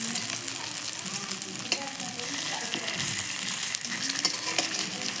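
Drumstick flower and potato fritters fry slowly in oil over a low flame, producing a dense, continuous crackling sizzle up close with scattered spatters and no one talking.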